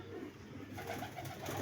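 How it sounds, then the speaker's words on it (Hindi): Pigeons coo in a loft where a cat has killed most of the flock, soft low calls that repeat close by against faint background noise. "ये कबूतर बचे हैं दोस्तों"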